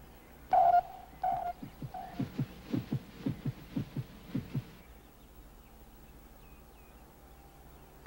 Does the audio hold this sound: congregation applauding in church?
no